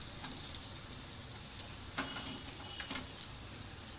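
Green chillies frying in oil with fenugreek and cumin while an amla pickle is prepared, giving a steady soft sizzle broken by a few faint clicks from stirring.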